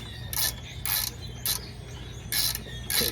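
A ratchet wrench turns out half-inch-head screws from a 2003 Jeep TJ transmission, giving five short close bursts of rapid clicking spaced by pauses, heard alone.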